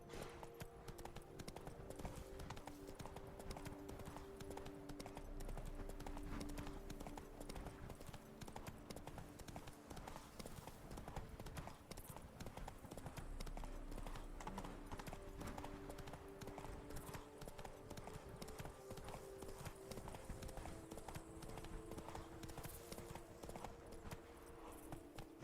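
Horse hooves clip-clopping steadily and faintly in The Witcher 3: Blood and Wine, an even walking rhythm over soft ambient game music.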